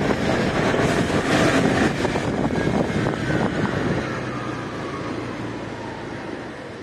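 A 50 cc scooter engine roars steadily at full throttle, loud and continuous, then its drone drops and thins as the engine falters toward a stall, with wind buffeting the microphone throughout.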